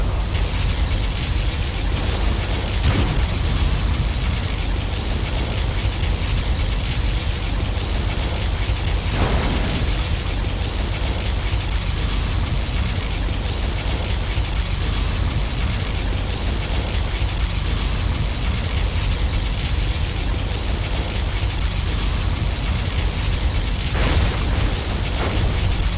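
Particle cannon strikes and explosions from the real-time strategy game C&C Generals, a dense continuous roar of broadband blast noise with a few sharper bursts standing out.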